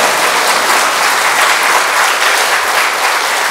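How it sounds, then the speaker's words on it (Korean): A congregation gives loud, sustained applause to welcome a visiting pastor at a church service. The clapping is dense and even, with no break through the whole stretch. "박수로 환영해 주시면 좋겠습니다."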